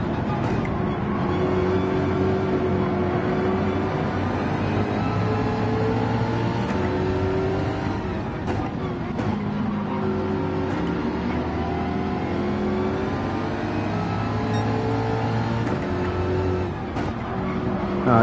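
Racing car engine in a racing video game, revving and shifting pitch steadily throughout, loud and continuous with a brief dip near the end.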